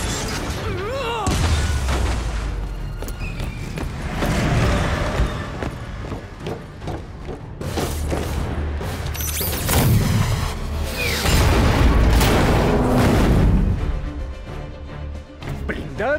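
Repeated booms, crashes and whooshing bursts of combat in Marvel's Spider-Man, several loud impacts and rattling gunfire in uneven clusters, with a voice speaking in between.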